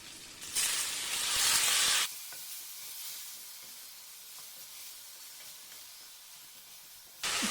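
Chopped banana flower tipped into a pan of frying potato pieces sets off a loud, steady sizzle for a couple of seconds, then quieter sizzling and spatula stirring carry on alone until another burst of frying at the end.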